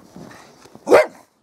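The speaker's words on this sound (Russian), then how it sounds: "Это собака." A single short dog bark rings out clearly near the end after a stretch of quiet, faint background noise.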